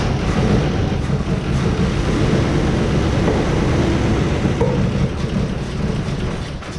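Old Buick Electra cranking without catching, a continuous loud, rough churning drone that runs steadily throughout with no voices.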